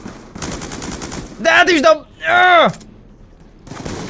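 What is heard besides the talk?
gunfire from a video game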